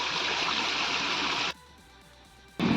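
A stream babbles and splashes in a steady, close wash. The sound cuts out abruptly for about a second, leaving only a faint tonal hum, then returns at full level.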